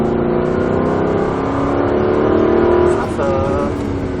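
Aston Martin V8 Vantage at full throttle on the Croix-en-Ternois circuit, a loud sustained engine roar climbing in pitch for about three seconds before easing off, heard from the cockpit with a brief voice near the end.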